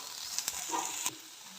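Shallots and chopped green chilies frying in a pan for paniyaram, a steady close sizzle with two or three quick sharp crackles or stirring taps.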